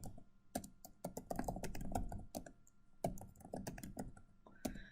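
Rapid, uneven key clatter from code being typed on a computer keyboard, close and fairly quiet, in bursts with short pauses and no talking.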